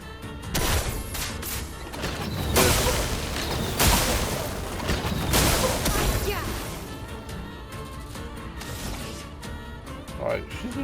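Explosive attack in Clair Obscur: Expedition 33 combat, a series of heavy booming impacts and crashing bursts with whooshes, followed by a fading rumble, with someone talking over it.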